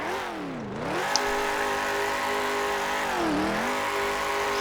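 Car engine revving in a Garry's Mod simfphys drift, the steady mid-pitched drone dipping and rising twice as the throttle eases off and picks back up, fairly quiet and continuous.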